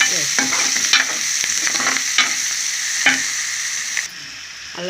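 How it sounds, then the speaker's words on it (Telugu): Ginger garlic paste frying in oil with green chillies for a home-style chicken curry, a steady close sizzle broken by several scraping stirs of a spatula in the pan. "ఇది పచ్చివాసన పోయినంత వరకు ఇది ఫ్రై చేసుకుంటాను"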